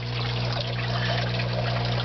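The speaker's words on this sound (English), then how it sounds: "I'm not going to wait for all the water to drain out." Water trickles and drains out of a bucket of worm tea that holds about 4.5 gallons of water with leaves and branches, a steady close splashing flow over a constant low hum.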